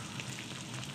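Fish frying in hot oil gives a steady, dense sizzle with fine crackling, close up and constant throughout the short moment.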